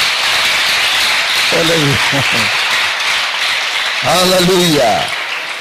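Church congregation clapping hands continuously, a dense steady patter throughout, while a voice calls out twice over it.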